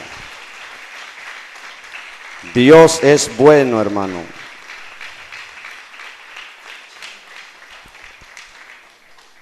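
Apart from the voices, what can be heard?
congregation applause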